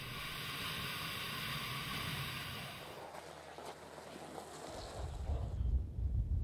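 Wind blows over flat ice at a camp where a tent is being put up, a steady rushing hiss that eases and then returns in gusty buffeting against the microphone.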